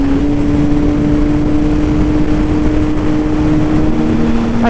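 A McLaren supercar in a video game drives with a steady, loud engine drone, its sustained tonal whine holding constant throughout with no voices.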